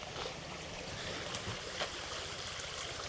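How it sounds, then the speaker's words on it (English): A stream flows beneath a bridge in the British countryside, giving a steady broadband rush of water that holds at an even level throughout, with a few faint clicks and no voices. "A little bit of ambient sound for you. There's the stream."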